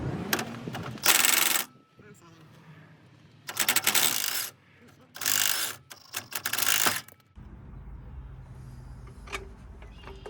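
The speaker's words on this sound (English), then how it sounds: "Let's take this bottom shock bolt out." Ratchet working loose the bottom shock bolt on a GMC Yukon during lower control arm replacement, several quick bursts of metallic clicking close by, separated by pauses with shop noise.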